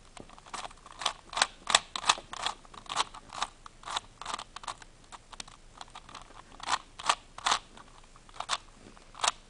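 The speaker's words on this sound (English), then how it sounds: "So now this is how the puzzle turns." Rhombic triacontahedron twisty puzzle with vinyl stickers being turned by hand, giving a close series of sharp plastic clicks and crunchy snaps in quick irregular bursts, with no voices.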